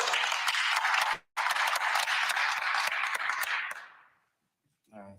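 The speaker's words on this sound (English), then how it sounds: "Let's give a big round of applause for the man standing strong for his family" Applause and clapping from a press-conference crowd for Rodney Wells, a father standing strong for his family, dense and steady for about four seconds, then fading out into a brief silence before a voice begins.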